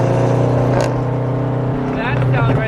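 A BMW F30 340i exhaust pops once between gear shifts, a brief sharp crackle over the steady, close engine drone of the car under way.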